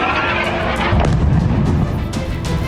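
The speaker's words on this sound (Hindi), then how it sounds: "चीख पुकार और धमाके की आवाज बेरूत में बर्बादी की कहानी बयां करने के लिए काफी है।" Bombing in Beirut sends out loud, heavy explosions that roll together into a continuous thundering rumble with sharp booming impacts.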